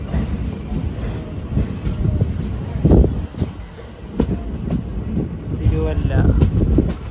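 The Vanchinad Express runs along the rails, a rumbling roll with rhythmic wheel clacks and knocks at a close, loud level, heard from inside a chair car with voices talking over the noise.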